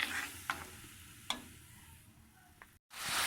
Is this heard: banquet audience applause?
no